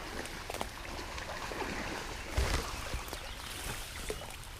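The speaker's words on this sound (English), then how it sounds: "There's a bunch of splashing going on back here." Carp splashing while spawning in shallow water, a steady wash of irregular splashes and sloshes with one stronger splash near the middle, heard from nearby with no talk.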